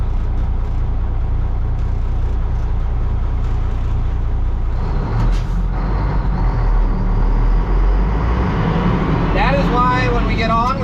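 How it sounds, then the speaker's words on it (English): A line of cars and trucks on a road, heard as a loud, continuous rumble of engines and traffic that runs throughout, with a brief burst of something else near the end. "There's quite the line of cars behind us."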